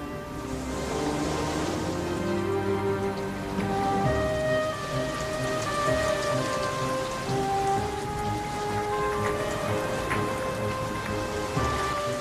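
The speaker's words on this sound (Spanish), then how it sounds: "La lluvia cubrió toda la tierra." Steady, heavy rain pours down in a dense, continuous patter with no voices, close and loud throughout.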